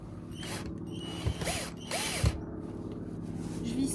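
A P17 socket base is screwed onto a converted van, with ratcheting clicks and short tool whirs close by, spaced out over a few seconds with no talk.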